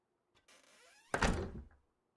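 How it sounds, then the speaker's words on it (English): A door swings and closes as a sound effect: a faint creak of the swing, then a solid heavy thump as it shuts, fading out quickly into silence. "As the figure then closes the door"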